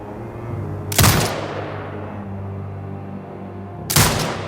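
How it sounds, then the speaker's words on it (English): Automated turret in Sniper Ghost Warrior Contracts 2 firing at hostiles: two loud, sharp bursts a few seconds apart, each with a ringing, fading tail over a steady low background hum. "Exit binocular mode and command the turret to fire."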